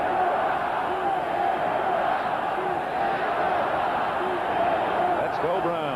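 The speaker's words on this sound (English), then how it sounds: "and the crowd chanting for Cleveland." A stadium crowd at a 1982 Steelers versus Browns NFL game roars and chants for Cleveland in a steady, dense wall of noise, with the rhythm of the chant faintly rising through it.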